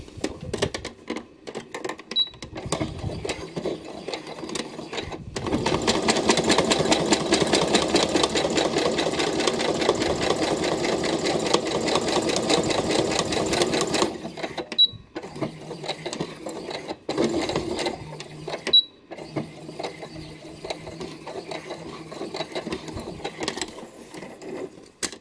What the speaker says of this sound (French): je vais venir faire une couture le long de la ligne en faisant un marche arrière avant et après